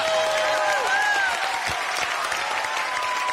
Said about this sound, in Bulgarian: Аплодисменти за Дебора Ангелова!